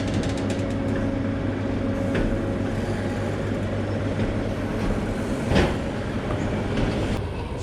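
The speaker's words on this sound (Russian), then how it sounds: "Все, уехала электричка." An electric commuter train pulls away near Taganrog with a steady, continuous rolling rumble and a brief louder swell of passing noise, heard without any talk.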